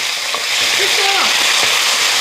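Oil heating in a frying pan on very low heat, a loud, dense, even sizzle filling the whole moment, with a voice briefly audible underneath.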